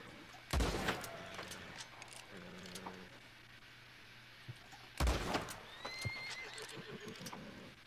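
An Appaloosa horse in Red Dead Redemption 2 whinnies beside gunfire from a repeater: two loud sharp shots a few seconds apart, each followed by neighing and snorting, with faint hoof clops in between.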